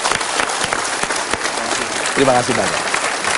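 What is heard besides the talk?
audience applause for a speaker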